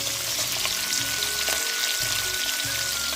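Red bell pepper hitting hot oil in a pan of home-style fried rice, giving a steady close sizzle and crackle with light stirring clatter, no talking.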